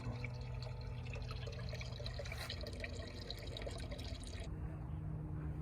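Diesel fuel pours steadily into the engine of a boat that sank and is being rebuilt, giving a continuous close liquid gurgle and trickle with no speech.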